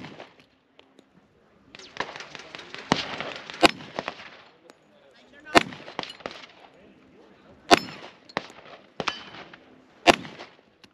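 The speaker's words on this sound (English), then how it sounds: "Now we're gonna go out to the range and shoot some targets." Sharp 10mm pistol shots from a Tisas Night Stalker 1911 fired at metal targets on an outdoor range, loud single reports spaced a second or two apart, some followed by brief ringing clatter.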